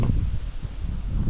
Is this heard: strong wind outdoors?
yes